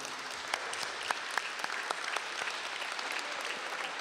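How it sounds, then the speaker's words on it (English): Applause fills a memorial service for a reverend, a steady medium-loud crowd clapping with a few sharper individual claps standing out, lasting about four seconds. "give you a great round of applause"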